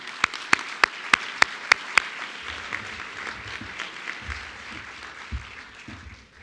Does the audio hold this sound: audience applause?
yes